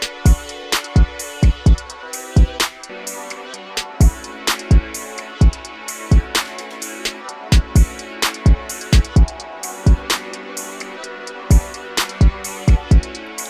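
A rhythmic drum loop slowed to half-time by a plugin, with punchy, widely spaced kicks and snappy hits over a sustained tonal bed, loud and repeating steadily.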